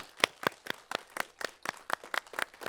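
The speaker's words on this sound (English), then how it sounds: "let's give another set of applause for Mike" A few people clap in a steady, sparse rhythm after a talk, the claps crisp and close with no voices.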